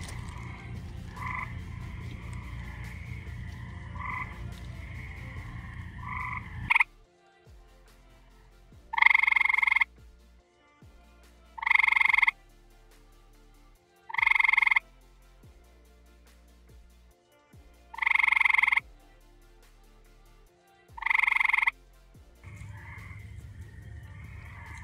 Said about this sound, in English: behind this pair there seems to be probably two eastern gray tree frogs